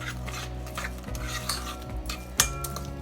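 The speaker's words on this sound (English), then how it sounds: "I'm just going to stir these to combine them" Cake ingredients being stirred together in a bowl for a pineapple upside-down cake, a steady scraping and clinking of utensil against bowl with a sharper knock near the end, close and moderately loud.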